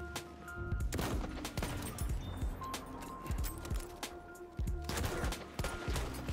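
Rapid Mars pistol shots in Battlefield 1, sharp cracks fired in quick bursts and single follow-ups, moderately loud against a busy battlefield background with distant gunfire.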